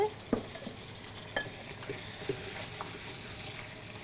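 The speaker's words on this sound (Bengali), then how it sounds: "এখন আমি এটাতে মাংসটা দিয়ে দিচ্ছি" Mutton goes into spices frying in a pan for aloo gosht, bringing a soft, steady sizzle under a few faint clinks and stirring scrapes.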